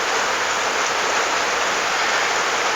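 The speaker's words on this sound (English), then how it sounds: "And by the way, I do apologize for the rain." Steady rain pours down as a dense, even hiss, close and constant throughout, with no other sounds.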